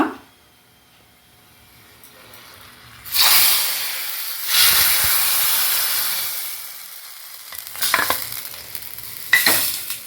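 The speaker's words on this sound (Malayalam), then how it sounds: "കുറച്ച് കറിവേപ്പില ഒരു മുക്കാൽ ടേബിൾ സ്പൂൺ വെളിച്ചെണ്ണയിൽ വറുത്തുക കേട്ടോ" Dried red chillies and curry leaves dropped into hot coconut oil, bursting into a loud hissing sizzle that swells, fades, then flares again with crackling spatters and stirring.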